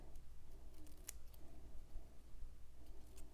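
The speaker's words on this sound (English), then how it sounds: "Just to add like a little plate that the cake is sitting on. And I cut right up to the edge" Scissors snip through a paper cake plate while a card is being crafted, giving a few quiet, close cuts with a sharp click near the middle of the short stretch and no talking.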